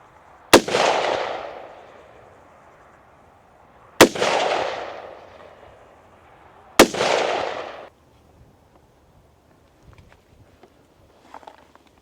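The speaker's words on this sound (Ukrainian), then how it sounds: "Ну а зараз переходимо до практики, постріляємо." Three sharp shots from a Colt M5 rifle, fired from the knee at a target about 100 metres away, ring out a few seconds apart, each followed by a long rolling echo, then quiet with faint rustling.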